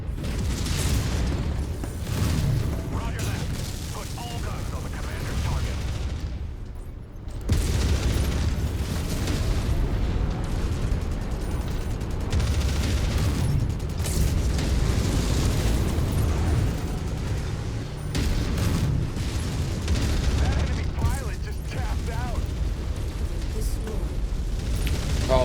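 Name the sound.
mech weapons fire and explosions, from video game MechWarrior 5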